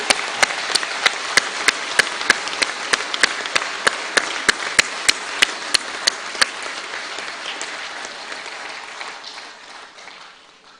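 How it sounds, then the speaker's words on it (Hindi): Audience applause at a postage stamp release ceremony honouring Dattopant Thengadi, a dense crowd clapping with sharp rhythmic claps standing out, held steady then slowly fading away. "तालियों की आवाज, गड़गड़ाहट रहनी चाहिए।"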